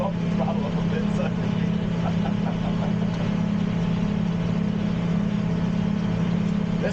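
A diesel tractor engine, an Allis Chalmers 8030 cutting hay, drones steadily with a strong low hum, close and constant throughout.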